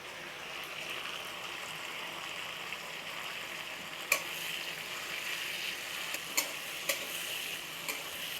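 Steady, quiet frying hiss of two tomatoes added to a pan fills the clip, with a few sharp clicks and taps near the end as food is moved in the pan.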